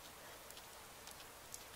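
Steady rain falls in the Persona 4 Golden video game, a continuous hiss of drops on a surface with a few faint ticks and patters, soft and even throughout with no talking.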